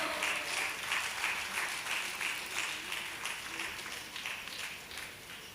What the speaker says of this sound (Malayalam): നല്ലൊരു കൈയടി പ്രതീക്ഷിക്കുന്നു.